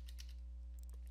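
Keys on a computer keyboard are tapped in a few quick, light clicks over a faint steady electrical hum, close and quiet with no talking.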